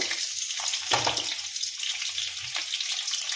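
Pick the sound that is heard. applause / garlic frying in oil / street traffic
garlic frying in oil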